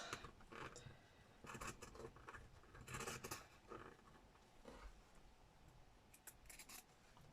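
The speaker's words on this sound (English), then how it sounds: "Let's cut those corners off." Several short crisp snips and rustles of scissors cutting through fabric, close by, in irregular bursts with brief pauses between.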